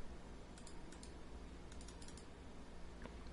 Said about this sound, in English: start typing in Terminal